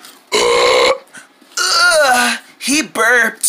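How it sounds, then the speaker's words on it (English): Loud, drawn-out burps from a person who has just eaten an entire pizza, several separate belches in a row with short pauses between them, close and unmuffled. "He burped."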